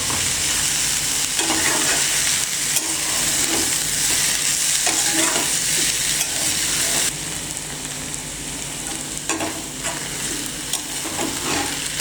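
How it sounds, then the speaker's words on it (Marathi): Onion with a pinch of salt sizzles and fries steadily in a pan for country-style onion-chilli thecha, with a spatula scraping and stirring now and then; the sizzle stays loud and continuous, with no talking. "कांदा असंच परतत राहायचा"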